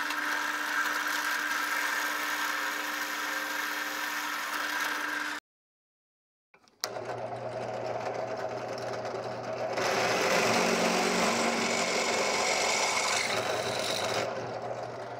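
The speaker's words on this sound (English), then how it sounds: "we'll be ready to drill all those holes" A drill grinds steadily into steel, boring quarter-inch holes, with a high, rasping whine, pauses briefly in silence, then resumes louder and harsher for several seconds.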